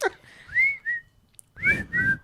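A person whistles in short melodic phrases, clear and close, with a pause in the middle before two more rising notes.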